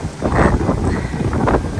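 Strong, gusty wind blows through a garden, buffeting the microphone in uneven roaring surges that swell and ease over a couple of seconds.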